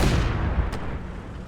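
A small 7.5 cannon firing in the Eastern Front war game Call to Arms: Gates of Hell, a single heavy boom with a deep rumbling tail that decays over about a second.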